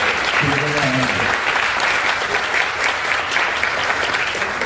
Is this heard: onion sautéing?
no